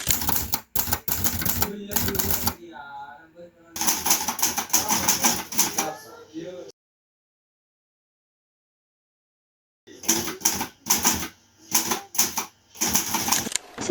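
A typewriter clatters in bursts of rapid key strikes typing out the Indonesian independence proclamation text, with pauses and a few seconds of silence between runs, close and crisp.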